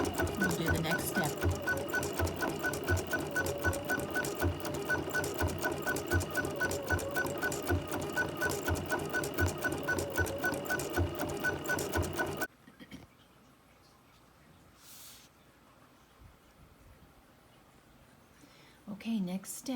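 A sewing machine runs steadily, stitching around the edge of a mug rug with a fast, even mechanical chatter, then cuts off abruptly partway through, leaving quiet room sound with faint movement.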